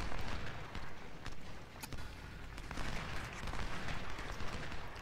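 Massed Civil War musket volleys and artillery fire rumble and crackle continuously in a First Bull Run battle in the strategy game Ultimate General: Civil War, with dense overlapping gunshots and sharper cracks standing out.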